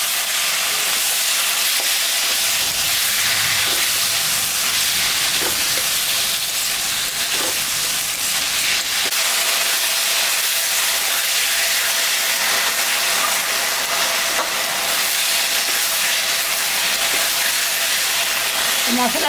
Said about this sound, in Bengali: মশলাটা একটু ভাজা হবে।